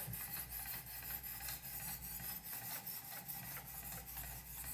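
A Zwilling prep knife drawn along 800 grit stones on a Wicked Edge sharpener gives a soft, steady rhythmic rasping, repeated strokes close and faint with no talk.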